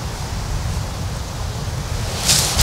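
Wind blows across an outdoor golf course, a steady broadband rush with low buffeting against the microphone and a brief stronger gust near the end.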